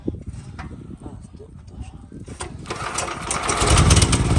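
A gas-run home generator is started and its engine catches, building from a low sputter to a loud, steady running drone, while people talk over the start.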